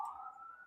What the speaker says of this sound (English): You guys hear the sirens again?